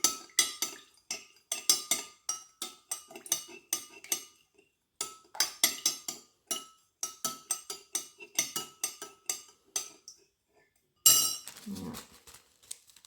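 Wax melts stirred in a metal pot, a close, rhythmic run of sharp clinks and scrapes of a utensil against the sides in quick bursts, pausing briefly before a louder clatter near the end, no voices.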